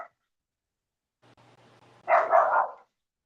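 A dog barks in a short burst of two or three loud, close yaps following a faint stretch of low rumbling, then the clip falls silent.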